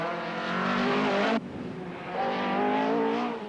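Irish driver's Opel rally car in the 1984 Manx International Rally, engine roaring loud and close with strong harmonic whine, a sudden gear-change cut, then revving hard again as it pulls away.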